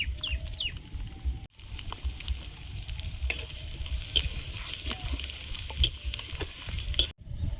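Panch phoron spices and chopped garlic sizzling in hot oil in a home kitchen, a steady crackling fry with scattered pops and clicks, nearby and moderately loud, with faint background sounds.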